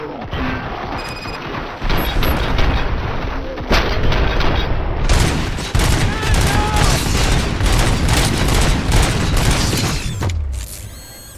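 Loud, sustained gunfire and booming impacts in the RoboCop: Rogue City game, a dense fusillade of shots with mechanical clatter running for several seconds before cutting off abruptly.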